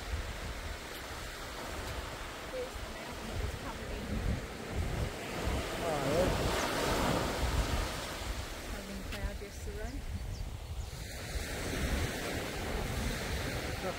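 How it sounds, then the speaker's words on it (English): Surf rolls in on the beach at Cape Tribulation, a steady wash of waves with wind buffeting the microphone throughout, swelling in the middle and easing toward the end. "So this here's the beach."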